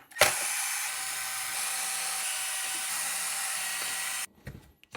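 A power screwdriver whirs continuously for about four seconds while backing screws out of the front bulkhead of a Traxxas MAXX RC car, then stops abruptly, leaving a few faint clicks and handling noises.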